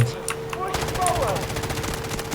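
Covering gunfire in the video game Delta Force: rapid automatic bursts crackle steadily over a busy battlefield backdrop, loud and close, with a voice talking over parts of it.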